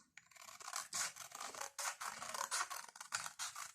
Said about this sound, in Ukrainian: Це коли ножиці крокують по лінії